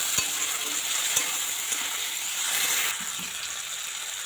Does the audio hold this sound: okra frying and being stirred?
yes